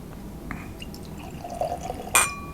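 A drink is poured from a heavy bottle into a glass: a brief, faint, rising trickle, then a sharp glassy clink near the end, in a quiet room.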